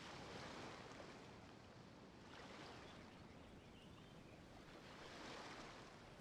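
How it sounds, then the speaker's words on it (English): Soft seaside ambience from the Genshin Impact video game: a gentle ocean breeze and distant waves washing in slow swells, faint and steady with no talk. "The ocean breeze is sure nice today."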